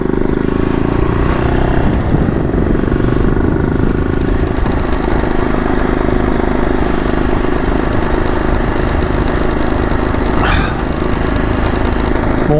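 A motorcycle engine runs steadily and loudly close by, a continuous rough droning rumble on a snowy mountain road, with no voices over it.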